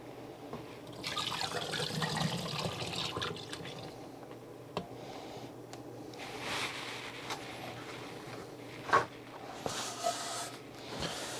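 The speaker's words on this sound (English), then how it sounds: "we'll go ahead and pour this back in real quick" Disc dye liquid poured back through a funnel into a container, a soft continuous trickle with scattered drips and a few sharper splashes near the end, close and fairly quiet.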